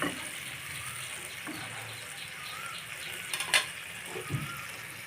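A small amount of water is poured into a pan of puti fish cooking for a curry, giving a steady soft gush with sizzling frying underneath and a few sharper splashes near the end.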